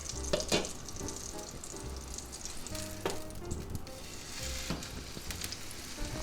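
A frozen beef burger patty fries in a covered pan with a steady, close sizzle and crackle throughout, plus a few brief scraping or stirring sounds.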